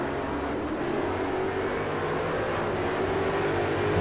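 Race cars in Forza Motorsport 4 stream across the finish line, a steady mid-distance engine drone with overlapping revving tones building slightly louder at the end, no voices.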